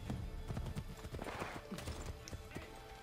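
Horse hooves clip-clop steadily in the Assassin's Creed 3 video game during the Midnight Ride, with faint whinnies over a constant background wash of game ambience.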